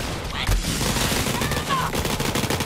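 Video game gunfire from Borderlands 3 during a fight to liberate a town: loud, dense volleys of rapid shots and automatic fire, continuous and close, with voices mixed in.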